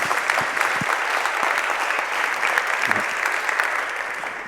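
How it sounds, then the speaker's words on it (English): A conference audience gives sustained applause for a speaker, an even patter of many hands clapping at close to moderate distance, continuous throughout with a few sharper individual claps standing out. "So give a round of applause to Thomas."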